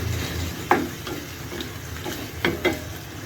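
Tomatoes frying in a pan for a baby corn gravy make a soft, continuous sizzle, broken by several sharp scrapes and clinks of a utensil stirring them.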